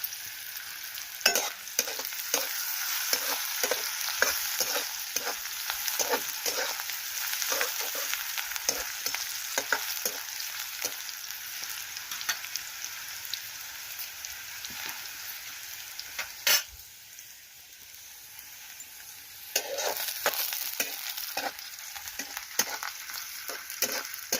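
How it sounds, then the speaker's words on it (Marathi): Onion frying in a pan for a rustic village vegetable dish, a continuous sizzle broken by repeated scraping stirs of a spatula, close and clear, with a brief lull midway before the frying resumes. "कांदा आपला लवकर तळला जातो."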